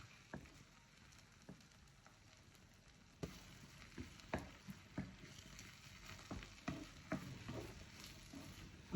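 Drumstick leaves and egg being stirred in a hot pan for a Kerala stir fry, with repeated scraping strokes over a steady low sizzle, close and moderately loud, no talking.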